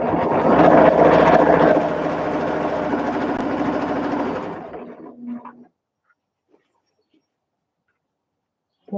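A sewing machine binding a quilt runs fast in a loud, continuous whir with a voice talking over it, then slows and cuts out, leaving near silence.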